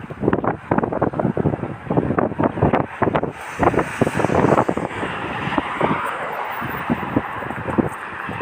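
Steady wind buffeting the microphone, with rushing gusts and low rumbling bursts throughout, loud and close.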